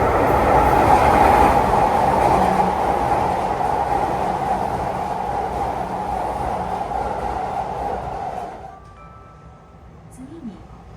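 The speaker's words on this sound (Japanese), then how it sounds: "次に3番乗り場を電車が通過します。" A train rumbles steadily through a Japanese station platform, loud and close, with a wheel clatter and a continuous roar that cuts off abruptly near the end.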